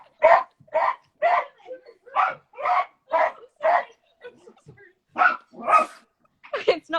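A dog barks about a dozen times in a quick, even rhythm, loud and close. The barks come in sharp separate bursts with short gaps and a few softer yips near the end.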